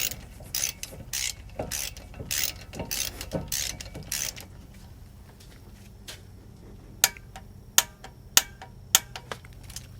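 A ratchet with a T30 socket clicks in quick bursts while tightening a caliper bolt on a GM truck's front disc brakes, followed by a few sharper, spaced clicks.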